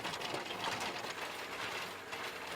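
A tractor ploughs a paddy field on an island with stones under the soil, giving a dense, continuous rattling and grinding clatter, rough and mechanical, with no voices.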